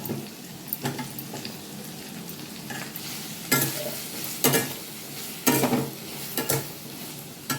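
Carrots, potatoes, tomatoes and green chilli fry in a pan, a steady sizzle broken by several louder bursts of stirring and scraping, close and with no talking.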